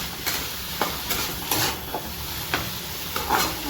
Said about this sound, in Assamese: এইফালে ৰাজমা বনাইছোঁ